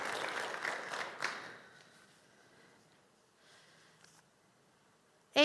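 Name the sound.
memorial service audience applauding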